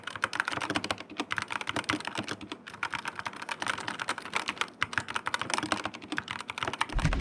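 Typing on a Redragon Fidd mechanical keyboard, a rapid, steady stream of close, crisp key clacks with short pauses between bursts.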